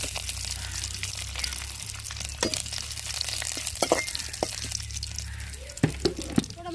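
Curry leaves and dried red chillies frying in hot oil in a pan for tempering tomato chutney, a steady close sizzle and crackle with a few sharper pops toward the end.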